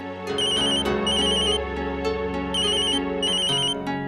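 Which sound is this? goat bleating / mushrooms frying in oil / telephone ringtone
telephone ringtone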